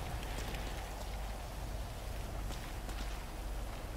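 Heavy rain pours down in a sniper shooter video game, a constant, even hiss of falling water that fills the whole stretch without any voices.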